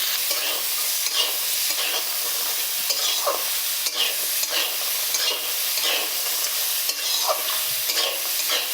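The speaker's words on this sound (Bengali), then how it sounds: "গাজর, ফুলকপি আর বিনস বেশ ভালো করে ভাজা হয়ে যাওয়ার পর আমি মটরশুঁটিগুলো দিয়ে দিচ্ছি।" Carrot, cauliflower, beans and peas fry in a pan with a steady sizzle, broken by repeated scraping strokes of a spatula stirring the vegetables, close and fairly loud, with no talking.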